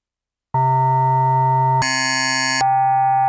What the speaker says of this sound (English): by pressing these individual buttons, we can demo those individual sounds.